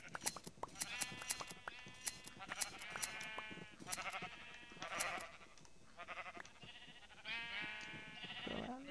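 Sheep in a modded Minecraft-style survival game bleat over and over, a dense run of loud, overlapping calls close by, with short gaps between them.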